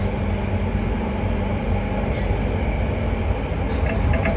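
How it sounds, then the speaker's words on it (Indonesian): An LRT train rolls at reduced speed along a curved rail section, producing a steady low rumble of wheels on track heard close and continuous from inside the car. "Rangkaian LRT memperlambat kecepatan."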